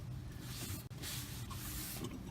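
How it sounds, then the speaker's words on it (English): A can of Gunk aerosol brake cleaner spraying onto the front brakes of a 2012-2016 Ford Focus, a close, fairly quiet continuous hiss with a brief break midway. "My good old Gunk brake cleaner."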